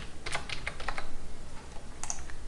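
Keys clatter on a computer keyboard while text is typed into a Revit title block, with quick bursts of close clicks, a pause, then a few more strokes.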